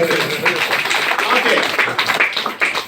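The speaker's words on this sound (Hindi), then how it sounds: "तालियां बजाएं इंजीनियर साहब के लिए" People clap for an engineer at a Sameday Infratech construction company gathering, a dense, steady patter of hand claps running throughout, with voices talking over it.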